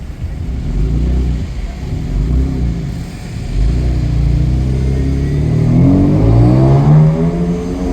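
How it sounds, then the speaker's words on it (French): Chevrolet Corvette revving as it passes, a loud, deep engine note that rises in pitch near the end as the car accelerates by, with some background roar throughout. "Chevrolet Corvette"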